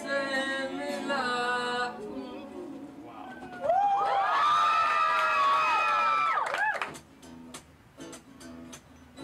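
A concert crowd at a live performance cheers and screams in a loud swell lasting a few seconds, with singing and scattered voices around it.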